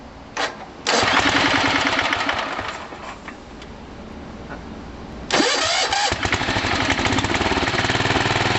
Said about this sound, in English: that's her cranking up with a new solenoid in there